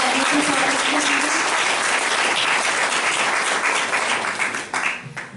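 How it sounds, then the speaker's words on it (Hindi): Loud, sustained audience applause welcoming a guest speaker to a spiritual class hall, dense clapping holding steady before tapering off near the end. "तो दीदी जी के लिए एक बार सभी जोरदार ताली से स्वागत करेंगे।"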